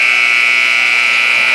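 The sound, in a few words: end of half buzzer at girls basketball game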